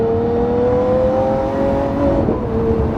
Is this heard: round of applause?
no